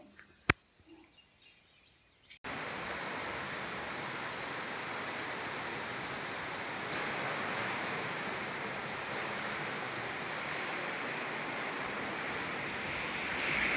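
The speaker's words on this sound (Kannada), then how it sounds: "ಅದು ಮಿಷಿನ್ ಬರುತ್ತೆ, ಅದರಲ್ಲಿ ತೊಳಿತಾ ಇದ್ದಾರೆ ನೋಡಿ. ಏನು ಸೌಂಡ್ ಗೊತ್ತದು, ಜಾಸ್ತಿ ಸೌಂಡ್ ಬರುತ್ತೆ." After a couple of seconds of quiet room noise with a click, a water pressure washing machine starts spraying inside a silkworm rearing shed, a loud, steady hissing roar of forced water that continues unbroken.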